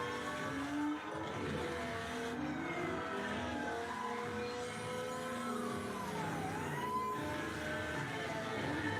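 Car engine and tire noise from a TV chase scene in The Flash, a continuous layered drive with rising and falling engine tones, a sliding pitch sweep and scattered high tones, steady and fairly loud without clear speech.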